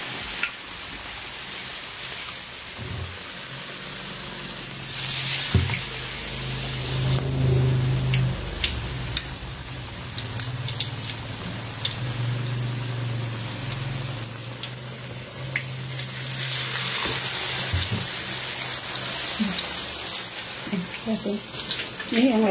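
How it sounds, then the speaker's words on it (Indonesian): Battered slices of beef lung frying in hot oil for crunchy krupuk-style crackers, a steady close sizzle and crackle with bursts of bubbling that swell mid-way and again near the end, with no talking over it. "sekarang kita goreng."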